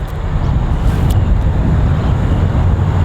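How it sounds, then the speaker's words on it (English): Wind rumbling against the microphone, a steady low roar throughout with no voices. "It's pretty windy out there."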